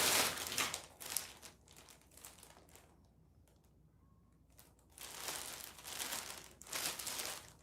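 A plastic bag crinkles and rustles in bursts near the microphone, loud crackling at the start and end with a quieter pause in the middle, no talking.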